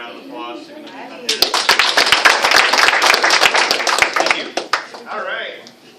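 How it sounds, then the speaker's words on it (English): Clapping for graduating students at a 2016 graduation ceremony, a dense burst of hands that starts after a voice and lasts about three and a half seconds before tapering off, with talk before and after. "so let's give them a hand"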